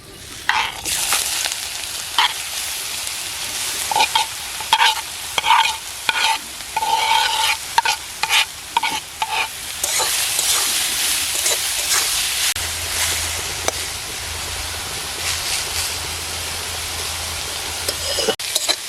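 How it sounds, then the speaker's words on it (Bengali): Grated bottle gourd fries in hot ghee in a kadai, a continuous sizzle broken by repeated scraping strokes of a spatula stirring, close and fairly loud, with no talk. "ঘিটা গরম হয়ে গেছে, এবার লাউটা দিয়ে দেবো।"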